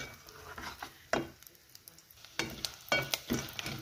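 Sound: dry fruits (cashews, almonds, pistachios) frying in a pan

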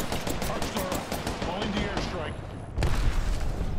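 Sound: gunfire in a video game

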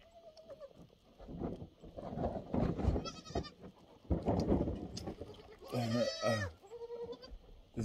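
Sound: baby goats bleating

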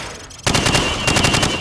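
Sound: rifle gunfire when hip-firing in Call of Duty 4 video game

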